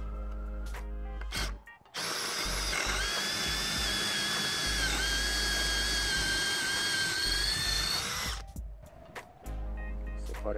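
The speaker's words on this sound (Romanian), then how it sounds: "Treapta a doua, modul de găurit la mașină," A power drill fitted with a concrete bit bores into concrete, running at a steady high-pitched whine for about six seconds, with short handling knocks before and after, close up.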